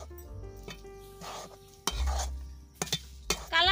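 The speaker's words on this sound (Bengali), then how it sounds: "তত সময় ভালো করে নেড়ে চেড়ে রান্না করে নিতে হবে" Spoon scraping and stirring a semolina and ripe mango laddu mixture in a pan, with a few sharp metallic clinks and scrapes over a faint low hum and a soft sizzle near the end.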